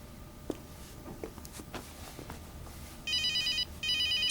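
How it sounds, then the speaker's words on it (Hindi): A telephone rings twice with a bright electronic trill in short bursts, heard indoors in a drama scene after a few faint bumps and footstep-like taps, moderately loud with no talk. "शाइस्ता, ये फोन देखो।"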